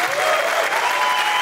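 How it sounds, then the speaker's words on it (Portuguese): Studio audience applauds a guest welcomed onto the stage of a comedy talk show, a dense, steady wash of clapping that stays loud and close throughout, with no talk over it. "uma salva de palmas para o Otávio Mesquita"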